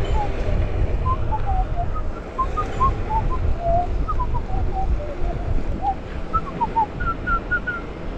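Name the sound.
person whistling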